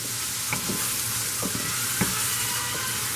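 Garlic, onions and ginger sizzle steadily in a pan for a Moroccan chicken tagine, a close, even frying hiss broken by a few soft stirring scrapes.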